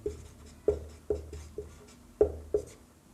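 Notes being written by hand, a pen scratching on paper in a series of short strokes roughly every half second, close and fairly quiet.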